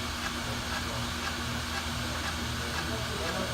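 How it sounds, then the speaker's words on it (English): An AMMCO ProCut brake lathe cuts a brake rotor, making a continuous, even hiss over a steady low mechanical hum with no breaks. "We're going to bring the cutting edges in just enough till they start cutting the rotor."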